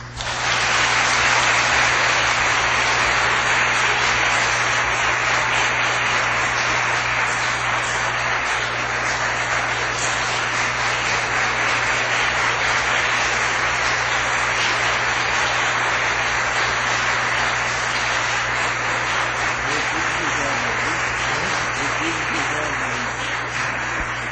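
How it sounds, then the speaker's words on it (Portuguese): A large audience applauds after a conference lecture at the 62nd SBPC meeting, a dense, steady roar of clapping that stays loud for over twenty seconds without breaks. "Eu vou devolver para vocês essas palmas"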